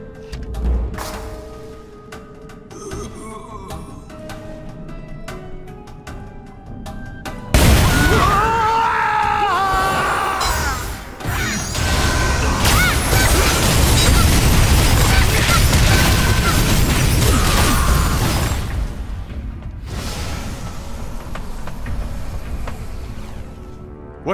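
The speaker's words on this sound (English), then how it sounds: "I heard an explosion." An explosion in the video game Blade and Soul bursts in with a sudden loud boom, followed by a long rumbling, crashing roar that fades after several seconds amid game sound and music.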